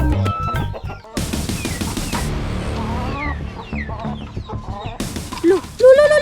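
Black Cemani chickens cluck and squawk near a coop, with repeated sharp calls and agitated cackles between rustling and scuffling, loud and close.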